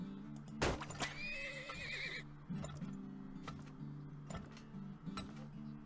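Horse whinnying in the video game Turmoil: two sharp, loud neighs near the start, followed by light clip-clop hoofbeats and ticking game sounds over a low steady hum.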